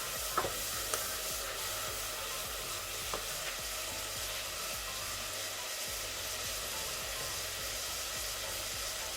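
Mutton trotters masala for Lahori paya sizzles and fries steadily in a pot while being stirred, a continuous bright hiss with a few faint scraping clicks near the start, close and even, no voices.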